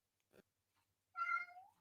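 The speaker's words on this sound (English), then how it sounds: "My cat is being very, very rude." A house cat gives one clear, close meow that rises and then trails downward, preceded by a short soft rustle in a quiet room.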